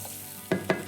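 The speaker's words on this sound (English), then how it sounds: "That's having a good sizzle" Brandy and red wine whisked into flour sizzle in a hot pan for a wine sauce, with three quick scraping stir strokes over a steady sizzle.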